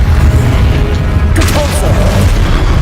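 A Glacius spell in Hogwarts Legacy bursts out as a loud, bass-heavy boom with a short crackling, shimmering flare partway through, over a constant rumble of game noise.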